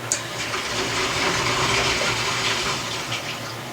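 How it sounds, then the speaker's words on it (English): A neighbor's toilet flushes and refills through the wall, a steady rushing gush of water at moderate level that continues unbroken for several seconds with no voices. "I hate that I can always hear my neighbors or like whatever like flush."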